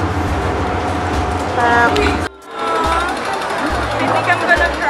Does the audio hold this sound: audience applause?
no